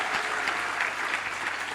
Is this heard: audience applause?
yes